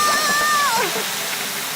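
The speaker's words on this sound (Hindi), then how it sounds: "पेपा ने पाइप पकड़ी और डैडी पिग ने पानी शुरू कर दिया।" Cartoon garden hose spraying water, a loud steady gushing hiss with a brief whistling tone near the start.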